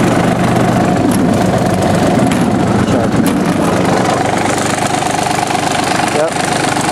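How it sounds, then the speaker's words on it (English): A John Deere F1145 diesel mower idles at low throttle, a steady close-up rumble with heavy vibration that stays even and continuous throughout, with no pauses. "Good low throttle. It vibrates a lot, but actually it's not bad compared to some diesels I've seen."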